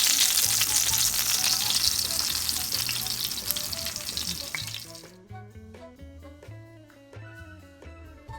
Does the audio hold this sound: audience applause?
no